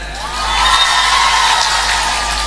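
A live audience at a humorous Islamic sermon responds with a swelling wash of cheering and clapping that rises within half a second and holds steadily, loud and crowd-wide.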